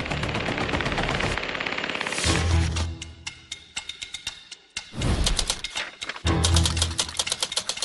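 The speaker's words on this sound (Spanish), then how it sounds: "La ametralladora pesada." A 12.7 mm heavy machine gun firing at about 600 rounds per minute, loud rapid bursts of shots with short pauses between them and sharp echoing reports.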